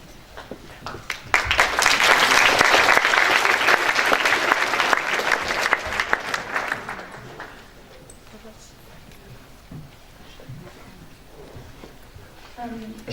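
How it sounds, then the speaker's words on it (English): A short round of applause from delegates at a ministerial conference swells quickly, holds steady for several seconds, then fades out into quiet room noise. "A short clap a short round of applause is allowed after every speech"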